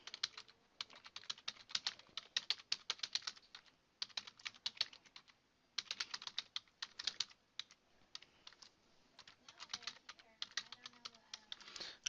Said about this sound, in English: then we could go ahead and type in our content